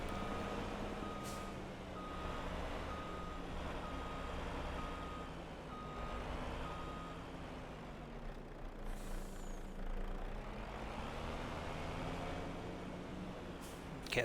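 A truck hauling a trailer in the Farming Simulator 25 video game reverses with steady, evenly spaced backup beeps over a constant engine drone, and a brief air-brake hiss cuts in partway through.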